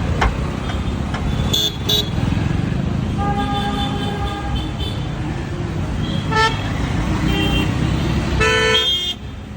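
Car horns honk in busy city street traffic: a few short toots early, another mid-way and a longer blaring honk near the end, all over a constant loud rumble of engines and road noise.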